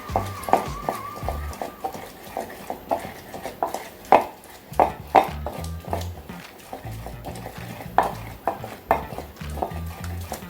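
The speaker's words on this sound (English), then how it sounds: "We grind our onions and garlic." Onions and garlic are ground in a pot for kontomire abomu. Repeated sharp knocks and thuds land at an uneven pace, with scraping between them, close and fairly loud.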